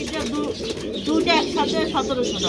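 Bokhara pigeons cooing in a loft, soft repeated coos and low throaty calls overlapping close by, with people talking throughout.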